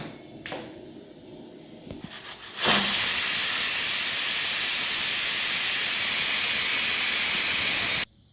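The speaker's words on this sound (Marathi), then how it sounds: "आता आपल्या कुकरचे 3 शिट्ट्या झालेले" A pressure cooker full of cowpea pods lets out a loud, steady steam whistle for about five seconds, starting abruptly after some quiet kitchen noises and cutting off sharply.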